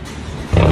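Scion tC 2.5L exhaust with resonators, muffler and S-pipe removed, a raw, deep throaty idle that jumps into a louder, harsher roar halfway through a brief burst.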